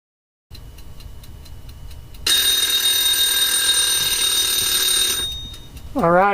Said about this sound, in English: Alright, there's the buzzer.